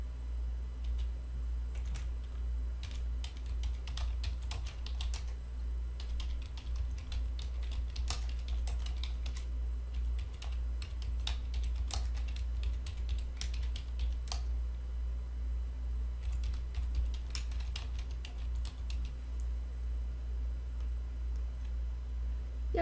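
Bookkeeping text is typed on a computer keyboard in a steady run of close, light key clicks over a constant low hum, with short pauses between bursts.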